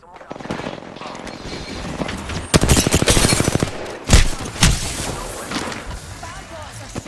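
Rapid automatic gunfire from bot opponents in the battle royale game Apex Legends, loud bursts of dense repeated shots with a few heavier single blasts, mixed with game noise and a player talking over it.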